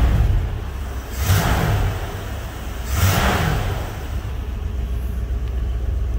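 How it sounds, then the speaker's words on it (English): A 1970 Ford Mustang Mach 1 with new spark plugs idles with a steady low rumble, while two louder whooshing swells pass over it, the engine holding an even, continuous note nearby. "It looks like it's idling really, really good."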